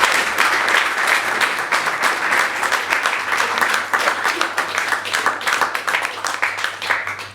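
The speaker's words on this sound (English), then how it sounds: "Can we give Peter another round of applause?" An audience at a community radio speaker evening claps for the guest, a loud, close round of applause with many distinct hand claps that holds steady and thins slightly toward the end.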